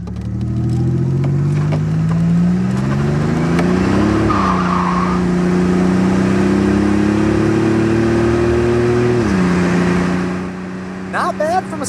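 A 1987 Buick Grand National with a turbo 3.8 engine accelerates hard, the engine revving up in two rising pulls with a drop at the gear change, loud and close from inside the car, easing off near the end.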